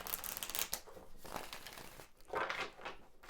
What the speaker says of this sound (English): I'm just shuffling because we'll end up using all the decks a few times.